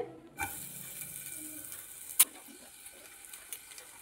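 A vegetable pancake with oil and chili flakes sizzles softly in a pan as it is flipped, a low steady hiss with a sharp clack of the spatula midway.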